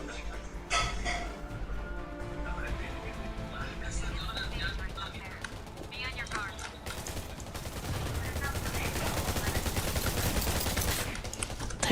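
Rapid automatic gunfire in the zombie survival game Undawn builds into a dense, sustained volley toward the end, preceded by scattered shots and game effects, with voices talking over the action.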